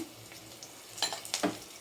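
Tempering seeds and fresh coriander crackling in hot oil in a pan, soft background sizzle with a few sharp bursts of spitting and popping near the end.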